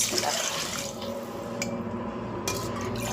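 Water splashes and trickles continuously into a metal pot, a close, steady pour of about one and a half glasses with a faint metallic ring.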